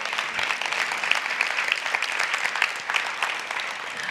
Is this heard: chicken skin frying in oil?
no